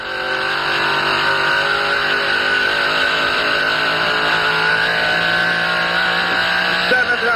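A 1970 AMC Javelin Trans Am race car engine accelerating hard, a loud, sustained high-revving roar that climbs steadily in pitch for about seven seconds before the revs drop.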